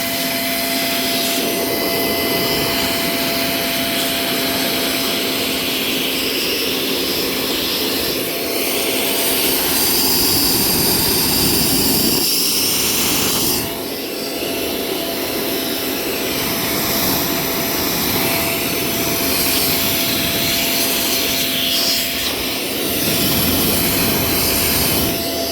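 A Vogma Vmonster portable 2-in-1 vacuum cleaner runs steadily with a continuous whining motor drone and airy suction hiss, briefly surging louder midway, with no talking.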